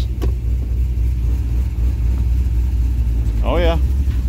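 A Cadillac CTS-V engine rumbles steadily and low as the car eases backward in reverse on a trailer, a continuous close drone with a brief voice near the end.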